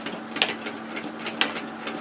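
Sewing machine stitching a woven kimono robe seam and back tacking, a close, steady mechanical whir with a light rhythmic needle tapping and a couple of sharper clicks.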